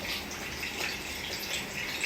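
Makeup brushes are rinsed in clear water, giving a steady wash of running, splashing water that stays close and even throughout, with no voices.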